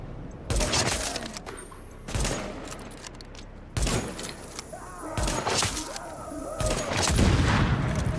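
Gunfire in a shooter video game, fought in a dark zone, strikes enemies in loud, irregular bursts. Single sharp shots mix with quick volleys, and thuds of impact fall between them.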